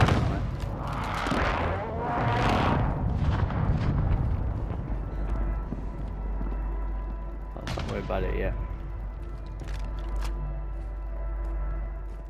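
Gunfire in a Warzone battle royale match on Ashika Island, with a cluster of loud, rumbling shots early on, a sharp crack near the middle and a steady low battlefield drone throughout; no voices.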